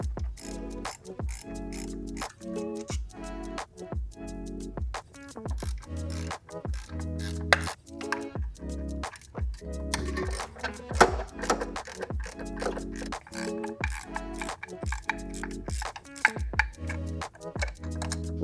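A ratchet works a 10mm bolt off the oil cooler lines of a BMW S54 engine: a close series of quick clicking pawl bursts with short pauses and metallic taps between them.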